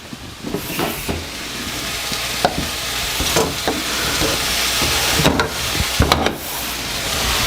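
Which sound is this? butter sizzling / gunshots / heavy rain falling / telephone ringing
butter sizzling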